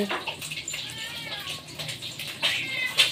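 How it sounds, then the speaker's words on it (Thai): A cat meows a few times over running water and faint background noise, fairly close by. "เสียงแมว"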